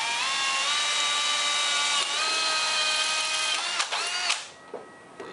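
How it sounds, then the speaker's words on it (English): A power drill bores a hole with a full-size bit while a springarm lamp is repaired, a close, steady high-pitched whine that shifts pitch a few times before winding down and stopping. "Now for the full-size drill bit."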